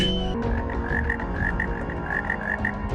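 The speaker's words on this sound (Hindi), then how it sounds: "मेंढक के टर्राने की आवाज, मतलब इस तरफ तालाब होना चाहिए।" Repeated cartoon frog croaks pulse steadily over a dense background chorus, loud and close, with no voices.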